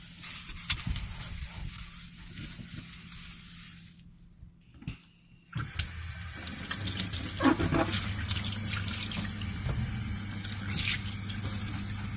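Running water rinses a kitchen sink after scrubbing with a silver cleaning stone, a steady tap stream splashing into the basin that stops briefly and then resumes, close and continuous without speech.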